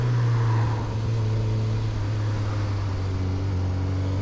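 A Suzuki GSX-S1000 naked motorcycle engine drones steadily and close by, a low hum with a brief dip in pitch early on as the quick shifter clicks down a gear, then a smooth, even note.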